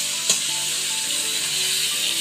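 A fresh pond-caught catla fish head fries in oil in a home kitchen pan, giving a steady, close hiss of sizzling with one small pop near the start.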